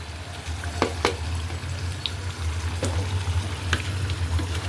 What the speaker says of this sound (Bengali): আমি সিম আলুগুলা বেগুনগুলা দিয়ে দিছি কষাইতে, একটু কষানো হোক